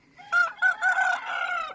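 A pure Aseel rooster on a farm gives a single loud, close crow with a few rising notes before a long drawn-out final note, alone without other sounds.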